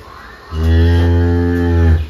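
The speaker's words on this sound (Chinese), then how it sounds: "这个牛已经破羊水了，那个羊水都快要生了" A cow about to give birth, waters already broken, lets out one long, deep, loud moo close by, lasting over a second before trailing off.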